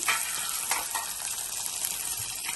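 Green chillies fry in a pan with a steady, close hissing sizzle, lifted by a few brief swells as they are stirred, fairly quiet and without any talk.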